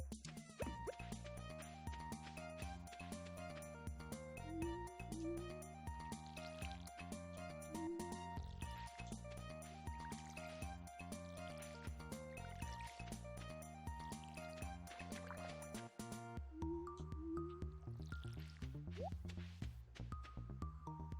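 Watering crops with a watering can in the Stardew Valley video game: soft repeated pouring, trickling splashes over steady looping background music, fairly quiet throughout.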